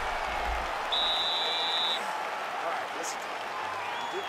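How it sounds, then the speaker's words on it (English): Crowd applause and cheering in a UFC 5 fight video game, a steady wash of clapping from the arena audience that fills the whole moment at moderate level. "the crowd voicing its appreciation after that crazy sequence in the previous round"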